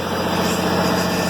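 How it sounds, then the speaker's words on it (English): A tractor engine running steadily while powering a crop sprayer pump for beans, a loud, close, continuous mechanical drone with no variation and no talk over it. "Tractor's running."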